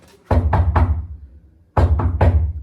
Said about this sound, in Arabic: خبط بقى يلا عشان نخش